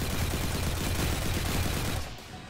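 Sustained suppressing gunfire in XCOM 2, a dense continuous roar of rapid shots lasting about two seconds before cutting off, loud and close with no talk over it.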